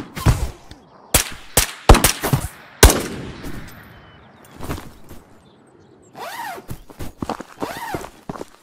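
Gunfire in the VR shooter Ghosts of Tabor: several sharp, loud close shots in quick bursts, then quieter movement and clattering gear, with a few more shots near the end.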